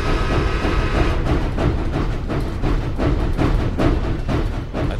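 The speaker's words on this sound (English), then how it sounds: "From outside came the sounds of hissing steam and squeaking metal." A train stands outside a house, giving off dense broadband hissing like steam with a rumbling low undertone and scattered metallic creaks, steady and fairly loud throughout with no voices.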